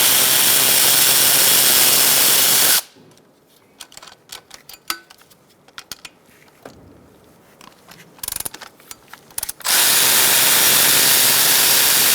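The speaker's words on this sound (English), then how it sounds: "now we're going to take out these two bolts to remove this bracket" A 12 mm socket tool works two bracket bolts loose on a 2012-2017 Hyundai Accent 1.6L, with a scatter of close metallic clicks and clanks between loud, steady bursts of broadband hiss.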